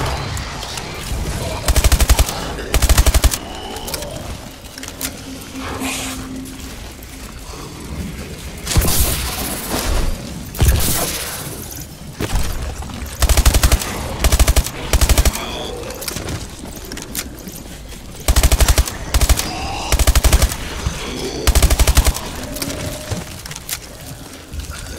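Gunfire in the video game Advanced Warfare Exo Zombies, with loud bursts of automatic fire in short clusters and single shots, separated by gaps of lower game noise and rumble.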